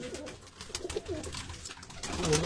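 Turkish tumbler pigeons, flying birds kept in Antalya, coo in soft, repeated throaty rolls close by, with several overlapping calls and light rustling and no voices.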